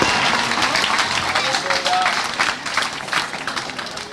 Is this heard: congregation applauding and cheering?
yes